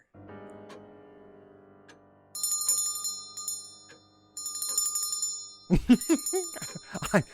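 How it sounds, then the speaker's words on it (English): A little hand bell rings in short bright shaking bursts in a dark psychological thriller audio drama, heard twice over a soft sustained musical drone before a dramatic swell of strings. "I'm so glad I found that little bell you had put on Stanley's finger."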